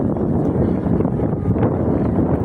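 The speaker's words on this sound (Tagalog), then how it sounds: "So, hangin." Wind blowing outdoors past a roadside restaurant area in Thailand, a steady, loud, low rumbling buffet against the microphone with no speech.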